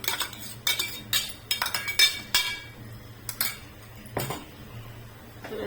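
Mango shira mixture being beaten in a pot with a metal spoon, giving a series of light clinks and scrapes against the pot in irregular bursts, fairly close, with no talking.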